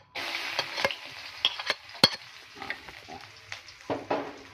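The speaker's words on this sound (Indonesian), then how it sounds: "kita masuk dulu bumbunya karena minyaknya udah panas" Spice paste dropped into hot oil and stirred in a pan, a close sizzle with scraping spatula strokes and occasional sharp clinks against the pan.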